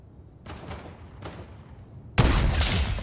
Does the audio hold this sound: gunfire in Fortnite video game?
yes